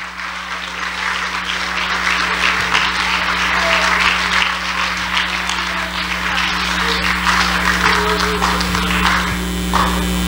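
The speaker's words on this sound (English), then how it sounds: "Come on, let's clap our hands to Jesus right now." Congregation at a church youth week service clapping hands together, a dense, steady wash of applause filling the room throughout, with a few faint voices mixed in.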